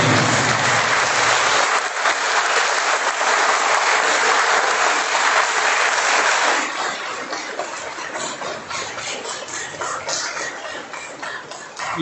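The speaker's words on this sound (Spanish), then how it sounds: "Un aplauso a la vida, un aplauso a Dios, el amor a nuestras familias." A congregation at a Catholic Mass breaks into loud, dense applause that carries on steadily, then softens into quieter, scattered clapping toward the end.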